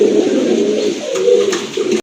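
Large fancy pigeons, a pair of Rajgolla-type birds at a market, coo continuously and close, a steady low throaty rolling with a few brief higher rustles over it.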